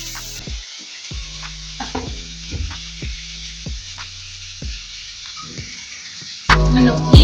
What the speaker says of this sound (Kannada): ತೊಳೆದಿಟ್ಟುಕೊಂಡಂತ ಬಾಸುಮತಿ ರೈಸ್ ಅನ್ನು ಆ್ಯಡ್ ಮಾಡ್ತಾ ಇದ್ದೀನಿ. ಇದನ್ನು ಹಾಕಿ 2 ನಿಮಿಷ ಫ್ರೈ ಮಾಡ್ಕೊಳ್ಳಿ.